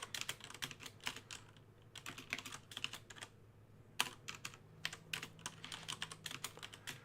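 Rapid clattering keystrokes on a computer keyboard while coding in Python, coming in close, steady bursts with a couple of brief pauses, over a low constant hum.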